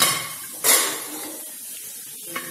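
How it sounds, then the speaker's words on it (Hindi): A pressure cooker is opened after cooking potato and French bean curry, giving a sharp metallic clank of the lid followed by a fainter knock and soft kitchen clatter. "हम कुकर को खोल के देख लेते हैं।"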